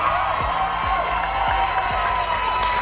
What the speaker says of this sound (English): You're applauding